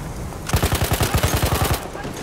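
Rapid bursts of light machine gun fire from the Hellriegel 1915 in Battlefield 1 multiplayer, shot from the hip: a steady stream of about a dozen loud, evenly spaced shots lasting under two seconds, close and alone.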